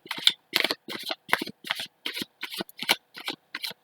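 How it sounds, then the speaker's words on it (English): Tarot cards being shuffled by hand in about ten quick, separate riffling bursts with short pauses between them, close and fairly soft, with no voices. "So now I shuffle them"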